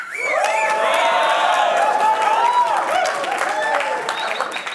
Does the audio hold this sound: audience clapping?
yes